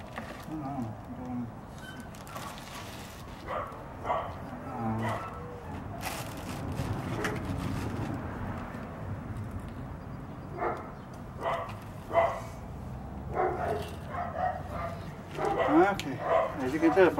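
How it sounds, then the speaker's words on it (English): A dog barks and yips repeatedly at the mailman's arrival, in bursts of varying loudness across the whole stretch, mixed with background voices and some household clatter outdoors near a greenhouse build. "as you can tell from the dog, the mailman is here"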